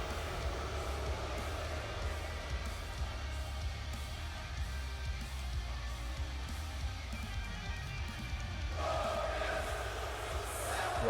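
An arena crowd in the WWE 2K22 wrestling video game sings along, heard as a constant, distant, muffled wash of many voices with no clear words.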